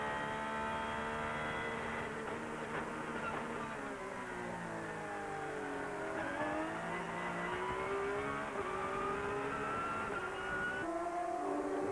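Onboard sound from the yellow and green number 18 Japanese GT race car at Motegi in 2002, its engine loud and continuous, rising and falling in pitch through repeated upshifts and downshifts.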